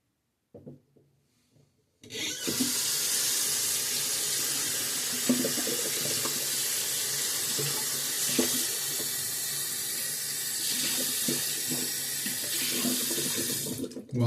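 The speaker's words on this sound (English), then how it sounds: "emptying out my bowl and cleaning out my brush." Tap water runs steadily into a sink while a Mühle R89 shaving bowl is emptied and a shaving brush is rinsed, a loud close stream with soft rubbing and knocks throughout, no talking.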